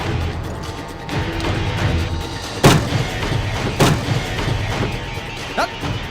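A blank cartridge goes off as two sharp, loud bangs about a second apart, standing out against a murky background of low rumble and ambient noise.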